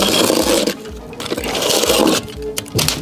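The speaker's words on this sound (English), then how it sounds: "we need to cut the top of the Tyvek" Tyvek house wrap is cut along its top edge on a brick wall job, producing harsh close scraping and tearing strokes in quick uneven bursts.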